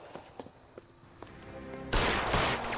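Gunfire in the video game L.A. Noire: a few scattered shots early on, then a loud, dense burst of shooting near the end, with no voices.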